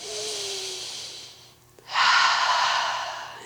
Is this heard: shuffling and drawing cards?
no